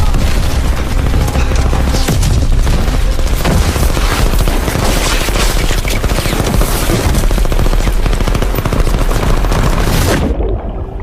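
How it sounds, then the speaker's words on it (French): Sustained machine gun fire with heavy booms in a French war action film, a dense, loud, continuous barrage of rapid shots and blasts that runs unbroken before cutting off near the end. "dites mitrailleuse active."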